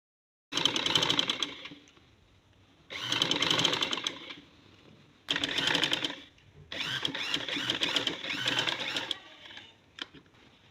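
A sewing machine stitches a kurti collar band in four bursts of rapid, close, rattling stitching separated by short pauses, ending with a faint click.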